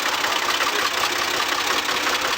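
A 45hp Ford 4000 tractor engine runs steadily close by during vertical tillage work, giving a loud, rough, continuous rumble with no pauses or voices.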